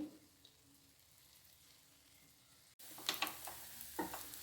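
Bottle gourd adai frying in oil on a pan gives a faint, low sizzle that turns into louder crackling and spattering after a short break.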